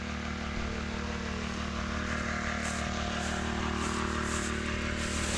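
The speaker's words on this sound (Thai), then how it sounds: "เครื่องตัดหญ้าครับในการปั๊มน้ำขึ้นมารดนะครับ" A small lawn mower engine, used to pump water for watering trees, drones steadily at a constant buzzing pitch, running unattended, with no speech heard.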